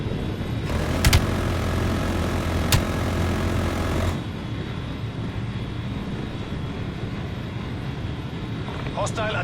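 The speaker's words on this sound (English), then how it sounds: "Hostile attack helicopter inbound." In a Black Ops Cold War match, an attack helicopter drones overhead as a dense, steady rotor and engine roar that drops off partway through, with sharp gunfire cracks and an announcer voice mixed in.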